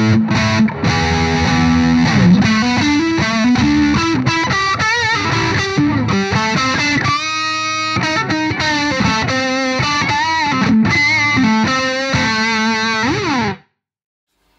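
Electric guitar played through an H&K Spirit Nano amp with the sag control pushed high, a loud, continuous distorted riff with bends and chords that cuts off abruptly near the end.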